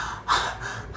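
A man imitates the labored breathing of a child in respiratory distress: one sharp, gasping intake of breath, close and moderately loud, followed by a softer breathy trail.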